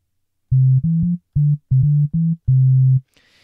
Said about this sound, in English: we'll load in my sine wave preset